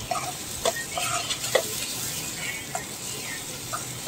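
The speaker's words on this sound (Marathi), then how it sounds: "मसाला छान फ्राय करायचा." Masala with red chilli powder frying in a pan for a prawn curry, a steady sizzle broken by several sharp scraping stirs, close and fairly loud.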